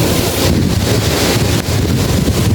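Strong wind blows outdoors on a sunny day, a loud continuous broadband rush buffeting the microphone with gusty surges throughout and no voices.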